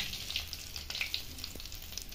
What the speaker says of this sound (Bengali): মাছটা কেমন লাল লাল করে ভাজা হয়ে গেছে।